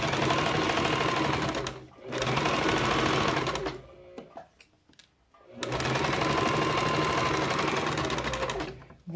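A sewing machine runs in two long steady buzzing stretches while stitching strips of fabric patchwork for a pouch, with a brief pause of small handling clicks between runs.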